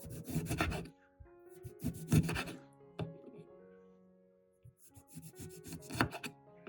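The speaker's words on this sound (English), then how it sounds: "First, I cut the lemon into thin slices." A knife slices a lemon into thin slices on a wooden board, with short bursts of rubbing, scraping cuts separated by pauses and faint background tones.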